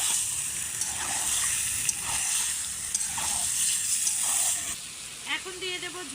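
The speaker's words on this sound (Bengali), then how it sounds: "মাছগুলো একটু আগে মশলার মতো কষিয়ে নেব।" Mirka fish frying with spices in a home kitchen pan, a loud steady sizzle and hiss with stirring, easing off near the end as liquid is stirred in.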